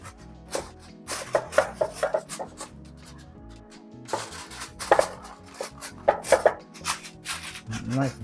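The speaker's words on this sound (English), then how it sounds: "I like to use this heavy duty Reynolds wrap" Heavy-duty Reynolds aluminum foil crinkles and scrapes as it is pressed tightly over a baking pan of turkey wings, with a series of close, sharp rustling bursts and pauses between them.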